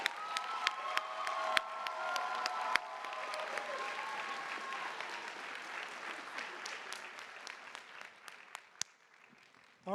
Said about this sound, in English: how about one more round of applause for our incredible finalists, judges, and everyone who involved in Do Good